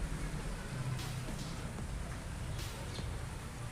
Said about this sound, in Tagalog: Kasi umuulan dito. Maambon.